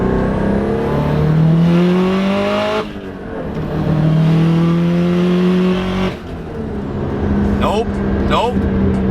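A Subaru STI with a misfire problem is driven hard, its engine revving up through the gears with whining climbs and brief dips between shifts, loud and steady from inside the car.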